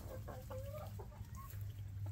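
Chickens at a backyard coop give a few short, soft clucks in quick succession, faint and fairly close, over a low steady hum.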